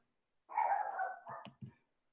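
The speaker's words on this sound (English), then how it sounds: "There's a dog and very concerned about something." A dog barks, a sustained bark-whine followed by a few short sharp yips, fairly close and alone in a quiet indoor setting.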